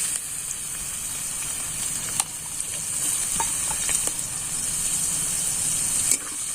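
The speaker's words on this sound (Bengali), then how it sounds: "পেঁয়াজটা একটু ভাজা ভাজা করে নেব।" Chopped raw onion sizzles in hot oil with dried red chilli, bay leaf and whole cumin for a fish curry, a steady close frying hiss broken by occasional sharp crackles and pops, with no talking.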